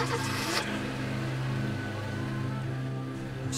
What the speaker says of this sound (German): Wir starten das Auto!